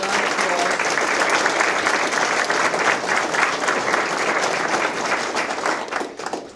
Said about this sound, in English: So if we can give them a big round of applause.